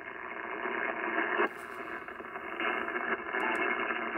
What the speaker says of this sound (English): I'm going to move a little off frequency so you can hear just the noise.